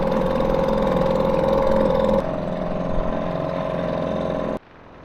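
A small outboard engine on a dinghy running close by with a steady droning hum, dropping slightly in pitch partway through before cutting off abruptly near the end.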